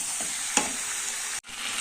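Vetki fish bones fry in hot spiced oil in a pan, a steady close sizzle broken by the scrape and clack of stirring, with a brief cut in the sound near the end before the frying continues.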